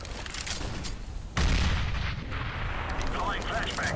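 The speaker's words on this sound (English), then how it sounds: "Deploying flashbang." A flashbang grenade goes off in a competitive shooter game, a sudden loud burst cutting in over steady background noise and then lingering as a broad ringing wash, with faint game chatter in the mix.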